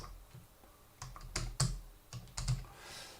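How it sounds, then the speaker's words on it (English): A computer keyboard sounds out a short burst of clicky keystrokes as a new password is typed, a few quick taps in uneven rhythm, quiet and close, with no talking. "I can go and type in a new password"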